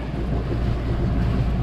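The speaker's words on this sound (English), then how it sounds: "the wind is picking up a little bit" Steady wind rushes over a sailboat offshore at sea, a continuous loud broadband roar with low rumble and no talk.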